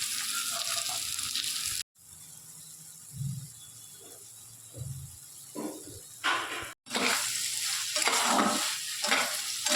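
Spice masala with two tomatoes and salt fries in a pan for a small jackfruit curry, its sizzle and hiss punctuated by stirring thumps and scrapes, with two short cuts in the sound.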